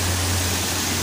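Foaming, bubbling river water in Grodno gives a brief, steady, close rushing hiss with a faint low hum beneath it and no voices.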